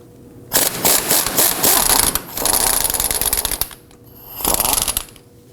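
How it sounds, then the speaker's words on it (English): An impact gun with a swivel socket loosens a 19mm strut bolt on a 2005-2009 Subaru Legacy rear suspension. It gives one long, loud rattling burst, a short pause, then a second shorter hammering burst. "We're going to use a swivel on our impact gun."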